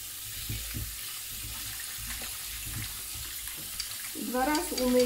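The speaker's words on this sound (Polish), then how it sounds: "Woda. I płukamy" Tap water runs into a kitchen sink while food is rinsed for a Chinese chicken and mushroom dish, a faint steady splashing with soft clatter, ending in a brief louder tonal sound.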